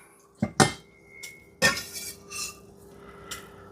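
Garlic and onion are tossed into a cooking pot for chicken cacciatore. A few sharp metallic clinks and clatters come close together, then softer scrapes follow in a quiet kitchen.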